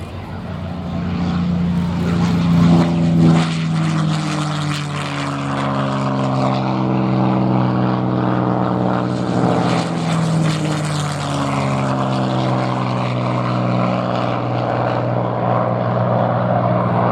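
Two classic American propeller fighter aircraft fly past together at an air display, a loud, sustained droning engine roar that swells and shifts in pitch as they pass, with a faint voice beneath it.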